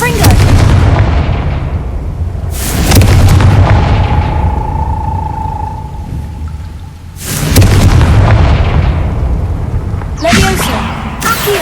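A Confringo spell blast in Hogwarts Legacy booms out as a series of heavy, rumbling explosions, three big bursts a few seconds apart with decaying rumble between them and a faint ringing tone.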